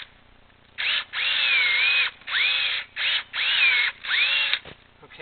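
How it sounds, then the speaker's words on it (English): A power drill bores a hole into a maple tree for tapping, its high motor whine starting and stopping in about five close, loud bursts of uneven length, with brief quiet gaps between them. "So we're just going to go ahead and drill into the tree."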